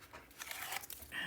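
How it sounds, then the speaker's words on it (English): Masking tape peeling off a heavy chipboard album cover during a paper-craft project, a short crinkly tearing rasp that builds to a brighter strip-pull at the end, close and fairly quiet. "And now I will take this tape off."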